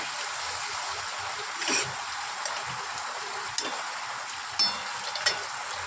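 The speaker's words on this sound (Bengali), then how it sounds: "আর একটু কষিয়ে নিয়ে এটা দিয়ে একটু নাড়াচাড়া করে নিই, তারপরে জল দেবো পরিমাণ মতো" Spice paste for a tilapia fish curry fries and is stirred in hot oil in a pan, a steady sizzle with a few scraping stirs and clinks, close and without talk.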